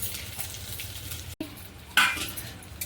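Stuffed green chillies fry under a lid in a pan, giving a soft, steady crackle and hiss at low level, broken by a brief dropout and then a sharper burst of sizzle.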